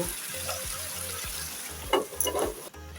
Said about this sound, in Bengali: মাংসটা আমি কয়েক মিনিট ভেজে নেব মাংসটা আমি তিন চার মিনিটের মতো ভেজে নিলাম